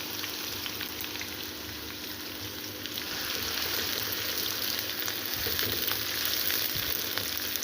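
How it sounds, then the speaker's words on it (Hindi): Sliced onions frying in hot oil for a potato and egg curry, a steady broadband sizzle that swells slightly louder in the second half, close and continuous with no talking. "तेल गरम हो तो फिर प्याज ज़रा जल्दी फ्राई हो जाते हैं"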